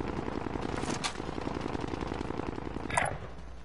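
Sustained automatic assault rifle fire in Warzone, a rapid steady stream of shots at moderate distance running throughout, with a sharper nearby crack near the end.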